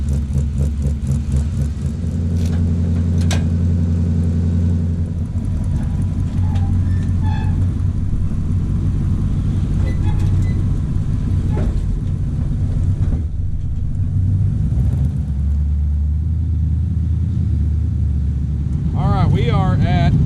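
A Jeep J10 truck engine, freshly rebuilt along with its transmission, idles with a steady low rumble that continues for about twenty seconds, with brief voices heard over it near the end.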